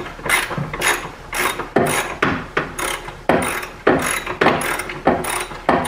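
A ratchet tightens the battery hold-down bolt on a Jeep Patriot, giving a loud, close, rhythmic series of clicking strokes, each a quick burst of ratcheting followed by a brief pause.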